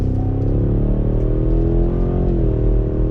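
A 2019 Cadillac CT6-V Blackwing sedan's V8 drones smoothly and continuously while accelerating, its pitch rising slightly, heard loud and close with no talk over it.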